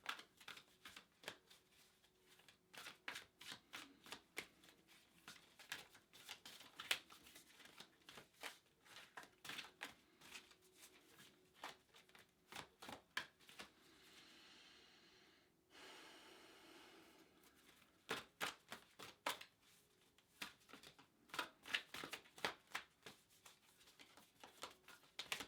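Tarot cards shuffled over and over in close, quiet bursts of rapid riffling clicks and flutters, with short pauses and a brief soft rustle between.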